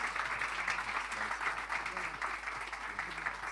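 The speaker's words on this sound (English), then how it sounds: "A big round of applause, ladies and gentlemen." Audience applause at a film trailer launch event, a steady broadband wash of clapping sustained for several seconds at moderate distance, with faint voices mixed underneath.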